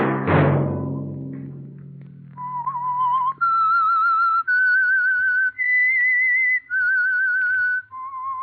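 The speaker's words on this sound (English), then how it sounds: "Let that whistle be your signal for the Signal Oil program, The Whistler" A whistled signal tune serving as the theme of a 1940s Signal Oil radio drama, a clean melodic whistle of several held and gliding notes, loud and alone, following a brief burst of low music or noise at the start.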